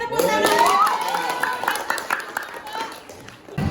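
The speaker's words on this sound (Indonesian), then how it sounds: "Oke, tepuk tangan." A classroom of students clapping, a burst of hand claps with crowd voices mixed in, loudest at the start and thinning out, with a voice speaking over it.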